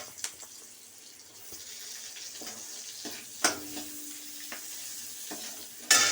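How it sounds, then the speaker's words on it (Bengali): Onions fry in a pan with a quiet sizzle while a spoon stirs and scrapes them in scattered knocks, ending with a sharper clatter. "এই পেঁয়াজটা নাড়াচাড়া করে"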